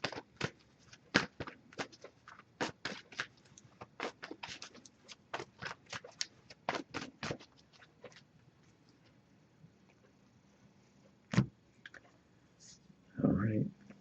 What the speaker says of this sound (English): we'll give it a few more shuffles and pull a single card here as well